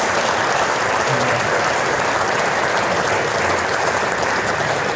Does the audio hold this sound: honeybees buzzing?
no